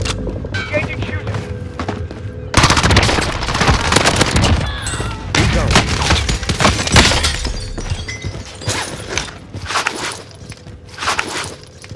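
Video game firefight with bursts of machine gun fire, crashing impacts and shattering debris, loud and dense after a quieter opening, with players talking over the shooting.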